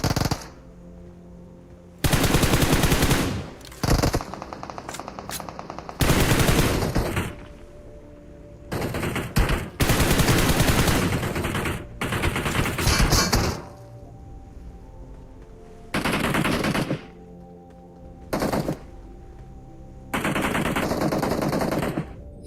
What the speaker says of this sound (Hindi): अब वो जिधर फाइट हो रही है, जिधर गन शॉट्स आ रहे हैं, वहाँ जाने वाला हूँ।